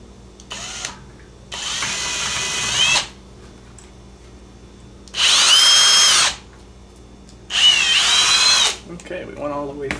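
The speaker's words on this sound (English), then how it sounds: "1 3/4 hole saw" Power drill driving a 1 3/4 inch hole saw through material, loud whining bursts of a few seconds each, separated by short pauses with quieter handling sounds, close by.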